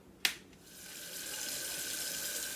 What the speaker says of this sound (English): now I'm washing up my nice little roast here